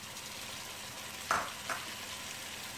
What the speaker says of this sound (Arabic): الآن سوف أضيف الطماطم